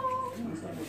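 A house cat gives a short, faint, tuneful meow, holding a steady pitch as if singing along to a person's coaching.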